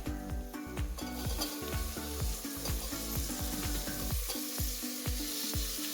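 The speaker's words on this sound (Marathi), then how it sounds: "हा टोमॅटो व्यवस्थित आपल्याला तेलामध्ये शिजून घ्यायचा आहे" Chopped tomato and onion fry steadily in hot oil, a constant close sizzle broken by repeated rhythmic scrapes and clacks of a spoon stirring against the pan, with no voices.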